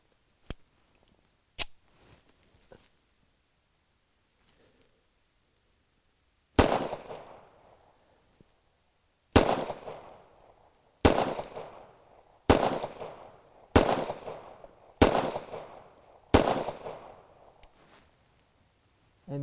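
Sharp, loud gunshots from an SDS Tisas M1911A1 pistol at an outdoor range, a few isolated early reports, then a string of six or seven evenly spaced shots each trailing off in a short echo.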